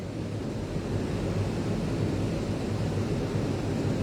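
Ocean surf at low tide below a hotel in Guam makes a continuous low rushing roar mixed with wind buffeting, steady and unbroken throughout, with no talking.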